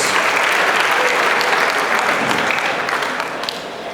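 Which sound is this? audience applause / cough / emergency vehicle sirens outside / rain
audience applause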